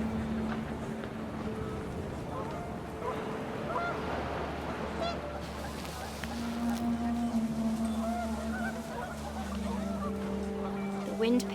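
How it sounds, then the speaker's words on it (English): Panicked geese honk repeatedly in the video game What Remains of Edith Finch, a busy, moderately quiet flurry of calls over a low windy rumble that continues throughout. "wind picked up and panicked geese appeared and quickly went."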